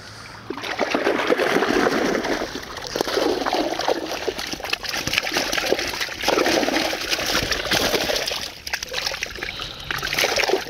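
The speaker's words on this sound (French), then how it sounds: "Ah, je me fais éclabousser." While fishing for bream, water sloshes and splashes in a continuous, fairly loud wash, with surges and small splatters close by and no talking.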